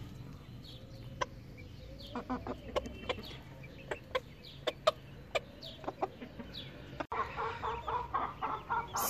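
A broody Ispenc hen clucks in a run of soft, separate clucks at a slow, uneven rhythm, fairly close over quiet background noise, followed by a brief rustling shuffle near the end.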